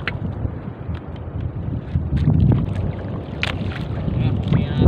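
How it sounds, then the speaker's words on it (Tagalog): Wind blowing hard over the open sea off Eastern Samar from a small handline fishing boat, loud gusting rumble and buffeting against the microphone, with water sounds and a voice partly heard beneath. "Madating na yung hangin."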